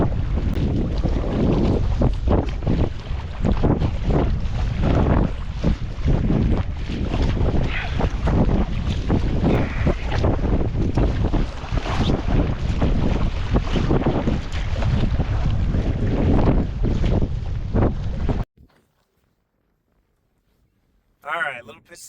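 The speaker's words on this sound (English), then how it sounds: "The wind is pretty steady." Steady wind roars over open water while kayaking on a trout fishing trip, a loud continuous buffeting of the microphone with a dull rumble beneath, cutting off abruptly near the end into near silence.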